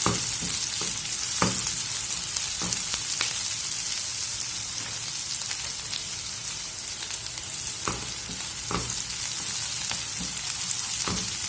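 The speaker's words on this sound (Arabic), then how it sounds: "بعد كده هنزل بالفلفل الرومي الاخضر، نقلبهم كده مع بعض كويس" Green bell peppers fry in a pan with a constant close sizzle, broken by occasional scraping knocks as they are stirred, with no voices.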